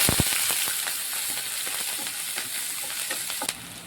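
Mustard seeds, garlic and green chili fry in hot oil, giving a steady close sizzle with sharp pops and crackles scattered throughout and a louder crackle near the end.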